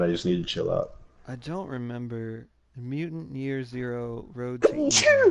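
A sneeze near the end of a casual conversation among people discussing games at E3, sharp and loud, following several seconds of talk.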